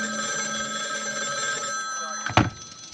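In a radio drama, a telephone rings steadily at a police department, a bright continuous bell tone, then breaks off with a short thunk as the receiver is picked up.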